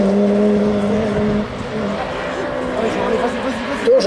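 A Honda rallycross race car drones past on its joker lap at a French championship round in Touraine, its engine tone steady and close, with an announcer talking over it.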